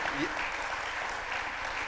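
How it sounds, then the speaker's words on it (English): An audience applauds two honored guests at a talk on work, class and community, a steady wash of clapping that stays even and moderately loud for the full two seconds. "how about a round of applause for these guys?"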